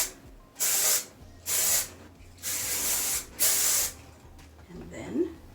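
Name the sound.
hairspray being sprayed onto styled hair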